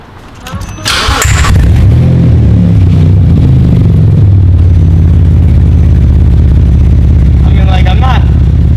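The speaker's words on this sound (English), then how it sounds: "I know you guys wanna know what a Porsche sounds like, just straight headers." A Porsche engine running straight headers with no exhaust cranks and fires, then settles into a loud, raw, rumbling idle that fills the space, with brief revs and a voice faintly underneath.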